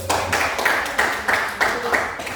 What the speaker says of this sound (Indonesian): Saya beri aplaus sekali lagi